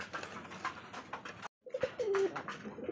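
Pigeons kept for sale coo in soft, repeated throaty phrases close by over a light background rustle, with a brief gap of silence partway through.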